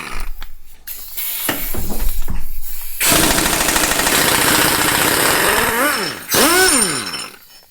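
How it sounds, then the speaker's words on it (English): An impact gun with a 14mm socket removing sway bar bolts, loud close bursts of rattling hammering, short at first, then a long sustained run and a final burst as the bolt spins out. "Great, so I've attached a 14mm to my impact gun here."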